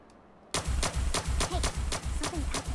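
Rapid automatic gunfire from a gun in Fallout 4, a burst of about ten evenly spaced loud shots after a brief quiet start.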